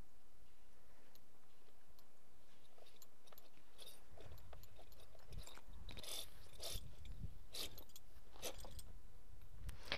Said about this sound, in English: I hear the cinch making a different kind of noise.